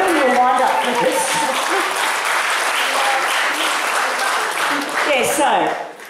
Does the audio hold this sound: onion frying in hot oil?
no